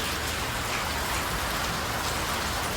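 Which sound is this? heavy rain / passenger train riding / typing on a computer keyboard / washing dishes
heavy rain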